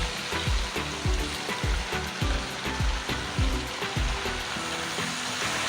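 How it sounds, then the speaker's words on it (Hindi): Mutton and chopped tomatoes frying together in a karahi, a loud dense sizzle with quick repeated stirring thumps and scrapes in a steady rhythm, close and without voices. "और अच्छे तरीके से हम इनको भी भून लेंगे"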